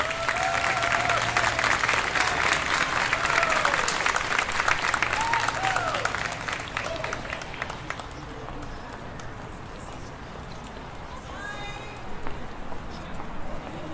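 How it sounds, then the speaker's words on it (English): A large audience at a graduation ceremony claps loudly and continuously, the dense applause holding strong for several seconds before thinning and fading as a voice carries on over it. "give them a big round of applause"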